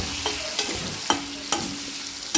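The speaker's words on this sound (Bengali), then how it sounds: "সাদা জিরের গুঁড়ো, হলুদ গুঁড়ো দিয়ে দিচ্ছি। নাড়াচাড়া করে দেবো।" A spatula stirs cumin and turmeric powder with tomato frying in a pan for a Bengali fish-head and greens dish. Rhythmic scraping strokes land about every half second over a steady close sizzle.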